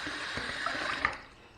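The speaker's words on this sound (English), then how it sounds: "Just heat it up under some hot water, swirl in the sink." A Mach 3 razor is rinsed and swirled under hot water running from a tap into a sink, a steady close hiss of flowing, splashing water with a few small clinks, no one speaking.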